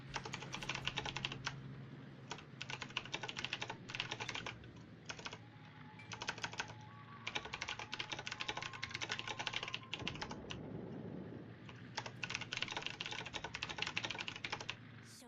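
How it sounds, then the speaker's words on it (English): Steady computer keyboard typing during a World of Warships match, rapid clattering keystrokes in bursts with short pauses, close and fairly loud, with no talking. "I was typing there"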